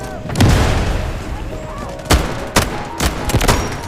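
Gunfire in the mobile shooter Delta Force Mobile: several loud, sharp shots crack out at irregular intervals, some in quick pairs, over a busy background of battle noise.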